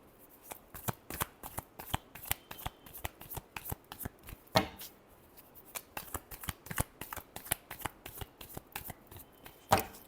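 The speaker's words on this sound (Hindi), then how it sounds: "Last shuffle." Tarot cards riffled and shuffled by hand, a quick run of crisp, snappy card flicks in irregular bursts, close and fairly quiet with no talking.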